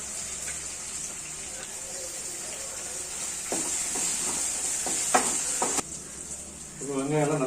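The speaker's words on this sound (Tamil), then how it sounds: "ஸோ இப்போ இந்த இஞ்சி பூண்டு பேஸ்ட் வாசனை போடுற வரைக்கும் லைட்டாக வதக்கிட்டு" Onions with ginger garlic paste sautéing in oil in a pan, a soft steady sizzle with stirring scrapes and clinks, then a louder sputter near the end.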